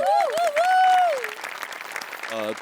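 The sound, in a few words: audience applause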